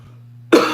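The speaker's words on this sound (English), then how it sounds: "I cannot shake this stupid dry cough" A single dry cough bursts out close to the mic after a brief low hum, sharp and short with no talking.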